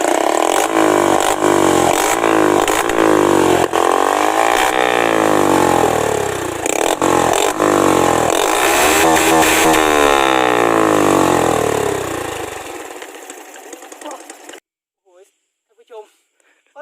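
A motorcycle with an open straight-through exhaust blares loudly, revving in repeated sharp bursts that rise and fall, then the roar cuts off and faint voices follow.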